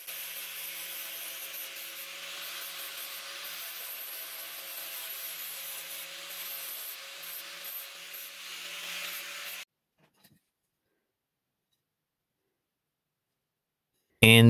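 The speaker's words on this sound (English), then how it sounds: "once again, just using the grinder, and I'm using it on the edge and just kind of winging it." A grinder works the edge of a pallet wood Christmas tree, giving a steady close abrasive whine for about ten seconds before cutting off into silence, then a brief loud burst at the end.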